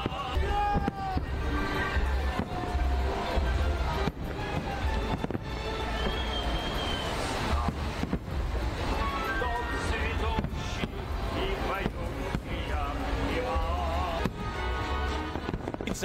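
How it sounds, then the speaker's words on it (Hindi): Victory Day fireworks over Moscow crackle and pop in dense, irregular bursts for the whole stretch, with some louder booms, under a news narrator's voice and distant crowd noise. "मॉस्को के आसमान में रात भर आतिशबाजी का नजारा दिखता रहा।"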